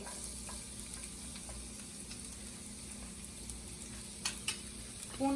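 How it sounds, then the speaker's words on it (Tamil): Chopped garlic frying in hot oil for egg fried rice: a faint, steady sizzle with a few soft ticks and a small stirring clatter near the end. "ஆயில் நல்லா சூடானதுக்கப்புறம் நம்ம பூண்டு போடணும்"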